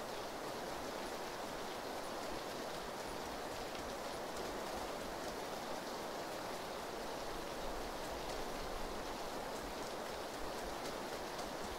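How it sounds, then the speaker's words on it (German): Rain in the video game PlayerUnknown's Battlegrounds, a steady, even wash of rainfall with no breaks, heard alone without voices. "Ist so laut, der Regen."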